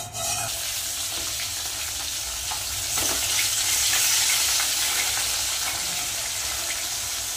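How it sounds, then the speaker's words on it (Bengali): Fish sizzles and crackles steadily in hot oil in a wok, a dense, continuous frying hiss that swells slightly midway and carries on without talk. "মাছ কিন্তু ভাজা বসিয়ে দিলাম"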